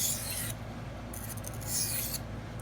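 Steel knife blade drawn across a sharpening stone in two quiet rasping strokes separated by a pause, faint over low background hum.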